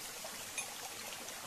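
Faint, steady trickle of water dribbling down from tree roots at a scenic picnic spot in Assam, a soft continuous wash with no talking.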